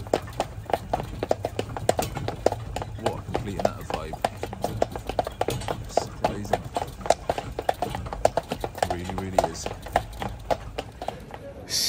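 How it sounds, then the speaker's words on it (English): Horse-drawn carriage in Krakow's snowy Market Square, hooves clip-clopping in a steady, even trot for the whole stretch, fairly close, with voices talking over it. "the little horse ride around the city"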